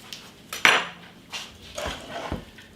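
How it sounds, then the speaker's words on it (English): Lemon juice and butter stirred in a pot, a few sharp metallic clinks and scrapes of a utensil against the pot, close and sparse, without talk. "And I give that all a good stir."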